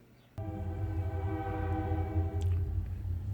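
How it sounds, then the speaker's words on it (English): A train rumbles steadily in the distance, a continuous low drone with sustained tonal hum, no voices. "you can hear the train moving in the background here"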